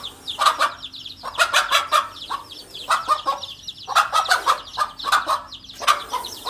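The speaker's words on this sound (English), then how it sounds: "the mother chicken did a pretty good job of directing her children to safety" A mother hen, guarding her chicks from a snake, clucks in quick, loud, close bursts that come in repeated clusters over a faint background hiss.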